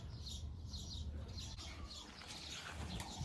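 Ala pigeons in a coop give soft, low cooing, with light wing flutters and faint chirps over a steady background hum, close and continuous.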